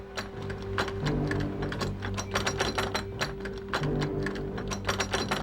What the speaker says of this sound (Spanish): notó que un hombre intentaba forzar el cerrojo